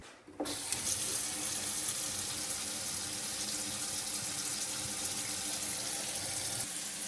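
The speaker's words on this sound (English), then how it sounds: "let's turn on the sinks in there and see if we have the same issue" Water from a well gushes steadily from a sink tap, a constant close hiss that starts abruptly after a brief pause and keeps running.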